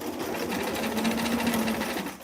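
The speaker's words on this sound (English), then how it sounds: "now we're gonna keep sewing all the way around" A sewing machine stitches a small Barbie square dance dress, a steady close mechanical whir running continuously without pause, no talking over it.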